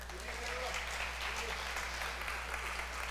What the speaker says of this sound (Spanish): Demos un aplauso a Eduard.